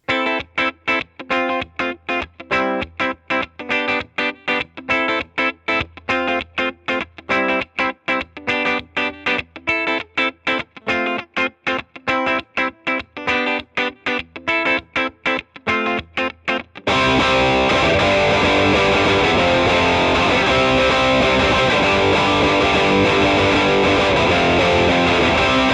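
Distorted electric guitar through a Marshall JCM 900 amp from a third wave ska band, loud choppy palm-muted stabs for about seventeen seconds, then a sustained, dense full-band wash of sound.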